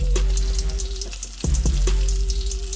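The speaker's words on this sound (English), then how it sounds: "All that bacon fat that's in there, that's what we want. And we want to get these mushrooms" Mushrooms hit a pan of hot leftover bacon fat for an Irish breakfast, sizzling loudly and steadily, with a few sharp knocks and scrapes of them being moved about, and no talking.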